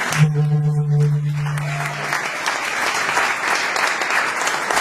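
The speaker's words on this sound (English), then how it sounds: "let's give our doctora a big round of applause" An audience breaks into a big round of applause for Dr. Lupe Frias, the first Chicana economics doctorate from UC Berkeley. A held tone fades at the start as dense clapping from the crowd builds and continues steadily.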